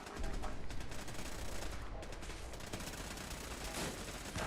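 Automated turrets in Fallout 4 fire sustained bursts of rapid gunfire, dense and loud throughout, with overlapping shots forming a continuous rattling fusillade.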